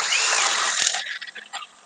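A new DeWalt cordless drill runs at a loud, steady whine for about a second, then cuts off and winds down into a few short, fading bursts.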